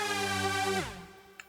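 A sustained, harmonically rich Dominator lead synth patch from Sylenth, built for hard-dance production, holds a steady tone, then drops in pitch and fades out, ending with a tiny click.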